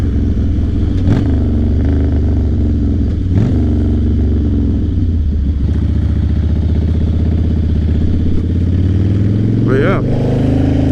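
Harley-Davidson Fatboy Softail motorcycle on a test ride, its engine a loud, steady low rumble with a couple of brief throttle swells and wind buffeting, while a rider talks over it.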